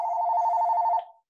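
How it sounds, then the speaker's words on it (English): A telephone bell rings steadily and loudly in a room for about a second, alone with no talking, then cuts off and fades. "Excuse the phone. I had a feeling it would ring."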